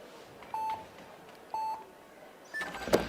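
Electronic start buzzers at a speed climbing world cup final sound two short, clear beeps a second apart, then a longer tone as the crowd noise rises.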